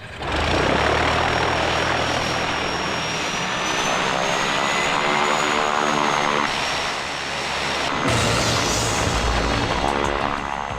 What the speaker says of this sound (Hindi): Take of low.